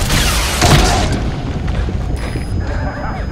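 A heavy rocket launch booms from the Honey Bee launcher in Metal Gear Solid V, a deep blast followed by a rumbling, hissing tail and faint high tones fading out.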